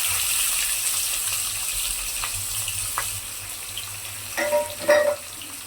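Onions frying in oil in a pan with whole dried chillies and chopped tomato, a faint steady sizzle with a few louder stirring clatters near the end, no voices.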